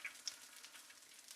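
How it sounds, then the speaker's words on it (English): Asparagus sizzles faintly in seasoned butter and oil on a Blackstone griddle, a soft continuous crackle with no talking. "You hear that sizzle,"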